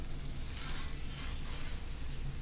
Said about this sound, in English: we're going to take our butter here, and we're going to grease the griddle